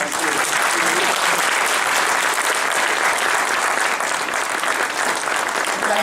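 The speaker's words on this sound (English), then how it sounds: "let's give Mike a round of applause" Loud, dense round of applause from an evening audience gathered for a talk, continuous throughout without a break.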